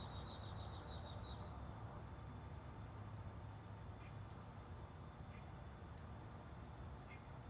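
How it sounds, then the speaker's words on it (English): A bird sings a quick run of repeated high chirps for the first second or so, then falls quiet over a steady, faint outdoor hiss. "Can you hear that bird?"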